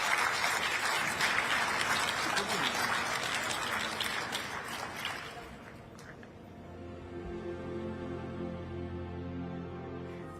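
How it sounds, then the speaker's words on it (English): Audience applause for panellists on stage at the launch of the Global Cooling Pledge, a dense sustained clapping from a large crowd that fades after a few seconds into a softer hall murmur. "please do give our wonderful panellists a big round of applause"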